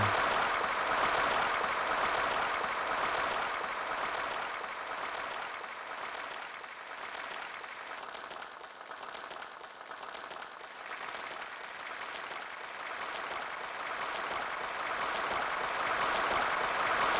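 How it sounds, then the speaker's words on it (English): A dense, wet-sounding clapping fills the space, a steady broad wash of many slapping hits that dips slightly midway, with no voices. "It's a very wet clapping."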